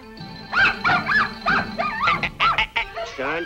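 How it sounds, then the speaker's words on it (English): A cartoon dog from Disney's The Coyote's Lament barks and yips in a loud, close series of about ten quick, pitchy barks, ending in a rising whine. "there's that dog again"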